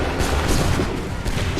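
A musket volley crackles in the Assassin's Creed 3 video game, dense overlapping booming gunfire filling the whole moment, loud and continuous with a rumbling low end, over faint background voices.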